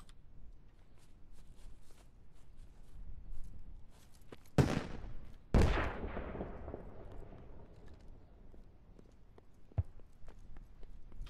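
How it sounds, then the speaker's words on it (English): Sporadic gunfire in Squad, a military shooter game: two loud, sharp cracks close together with echoing tails, surrounded by fainter distant shots scattered over a quiet, low background. "U.S. still firing up here"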